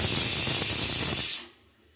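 Pressure cooker whistle venting steam while chana masala cooks: a loud, continuous rushing hiss that cuts off abruptly, leaving near silence, heard alone without talk.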